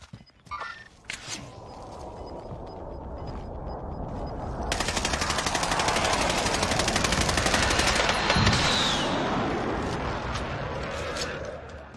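Rapid automatic gunfire in the Warzone video game: a few scattered shots first, then a long, dense, loud rattling burst that carries on for several seconds before easing slightly.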